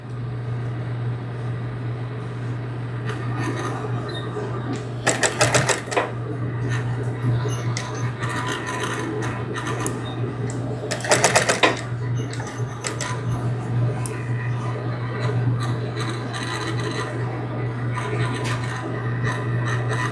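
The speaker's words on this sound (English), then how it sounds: "I'm gonna back stitch at both ends just with the hand wheel here." A sewing machine back stitches as its hand wheel is turned slowly, giving two short mechanical rattling bursts over a constant low electrical hum and faint rubbing, with no speech.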